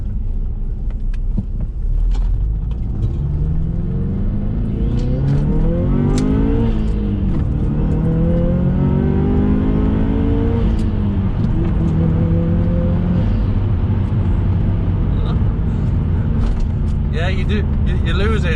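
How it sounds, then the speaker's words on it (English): A turbocharged car engine with a pod air filter revs hard and rises in pitch, the exhaust roaring and droning loudly, with someone talking over it throughout. "As soon as that exhaust kicks in over the top, you lose all of the induction noise."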